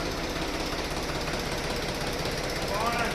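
A restored John Deere 5310 tractor engine runs on trial, giving a loud, steady diesel chug with a dense knocking rhythm from start to finish. A brief voice rises over it near the end.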